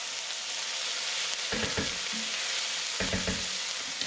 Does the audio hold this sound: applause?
no